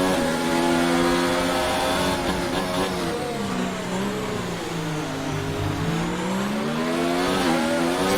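F1 2019 race car in a video game at the Belgian GP, oversteering with rear tyres overheating; engine revs rise and dip continuously with a mid-pitched drone, steady and fairly loud, no talking.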